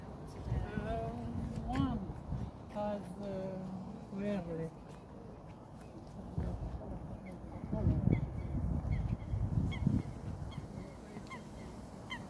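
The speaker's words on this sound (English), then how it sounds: "Some birds." Geese honk outside Leeds Castle in Kent, a burst of loud nasal calls in the first few seconds, then outdoor rumble and wind with scattered footsteps, a person talking briefly.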